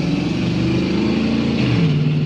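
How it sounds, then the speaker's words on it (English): A loud souped-up truck engine with a heavy, rumbling muffler revs steadily and continuously close by, its low growl rising slightly toward the end. "It is the souped up truck with the loud muffler."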